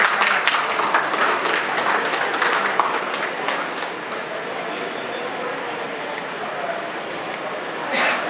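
An audience at a book release event applauds, a dense steady patter of many hands clapping that fades slightly after a few seconds and continues to the end.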